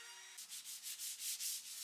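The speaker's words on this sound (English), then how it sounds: "To finish the oak shelf, I sand away the excess filler" Excess filler is sanded off an oak shelf by hand, with rhythmic back-and-forth rubbing strokes that are close and clear. A short steady tone is heard before the sanding starts.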